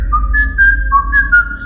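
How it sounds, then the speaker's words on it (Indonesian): A short, wavering melody whistled in clear sustained notes that step up and down, heard over a low background rumble. "mulai mendengar ada suara siulan."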